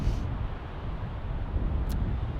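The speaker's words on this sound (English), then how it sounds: "It's pretty windy up here." Strong wind blowing across an exposed hilltop on an icy hike, buffeting the microphone with a steady, loud low roar that barely changes throughout.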